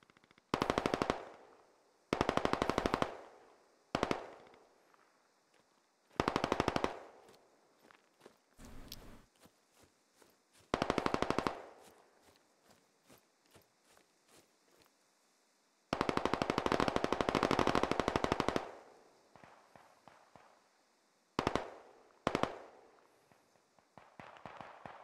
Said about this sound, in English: we're taking fire from the police station